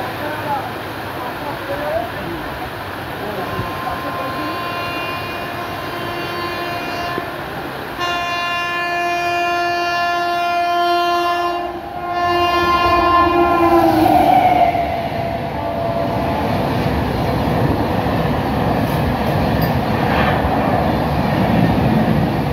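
A local train on the Howrah to Tarapith line rumbles closer as the Shahid Express approaches, a long, loud horn blast sounding twice, its roar swelling as it nears; voices murmur faintly in the background.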